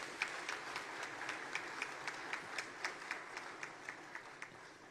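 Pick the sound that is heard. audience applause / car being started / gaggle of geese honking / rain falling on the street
audience applause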